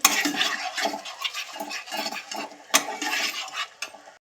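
Masala spice paste for prawn malai curry being stirred and fried in a pan: rhythmic scraping strokes of a spatula, about eight repeated bursts, close and fairly quiet, with no voices.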